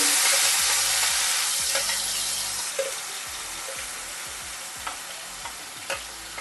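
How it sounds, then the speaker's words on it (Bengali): Spice paste containing nuts sizzles and crackles as it goes into hot oil in a kadai on very low heat while cooking a Noorjahani fish dish, with a loud steady fry that eases after a few seconds and occasional soft pops and stir clinks. "এবার যে মশলার পেস্টটা তৈরি করেছিলাম এই তেলের মধ্যে দিয়ে দিচ্ছি।"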